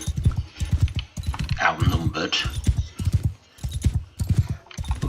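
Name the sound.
horse hooves clip-clopping in video game Mount and Blade II: Bannerlord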